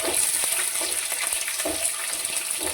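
Onions sizzle and fry in hot oil for puliyogare, a steady close crackle with occasional stirring scrapes and no voices.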